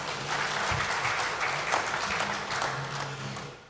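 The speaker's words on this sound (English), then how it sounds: "Please give him a round of applause" Applause from an audience at a Niger Delta development board retreat, with a steady, dense wash of clapping that holds at an even level throughout and has a faint murmur beneath it.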